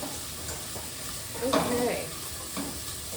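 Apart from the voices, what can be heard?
onions and garlic sizzling in pan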